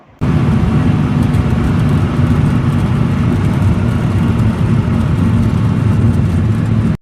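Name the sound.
car driving, cartoon sound effect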